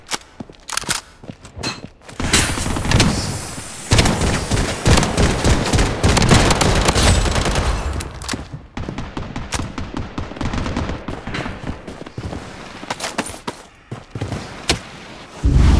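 Loud, close automatic gunfire bursts and single shots in the shooter game Blood Strike, with dense rattling volleys and brief gaps between exchanges.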